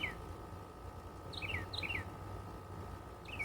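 A wild bird sings in a garden in southern Missouri, giving several bright, chirping calls in quick clusters. The calls sound moderately close over a steady low hum of background noise.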